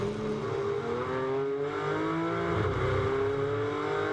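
A GT4 race car at Hockenheim, heard from onboard, drones loudly under sustained acceleration, its engine pitch rising through the gears with a brief dip at a shift near the end.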